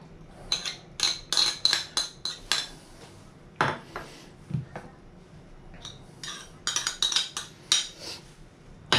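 A spoon clinks and scrapes against a bowl while mixing tartar sauce ingredients (lactonesa, a milk-based mayonnaise, with parsley). The metallic taps come in quick bursts with short pauses, close and fairly loud, with no talking.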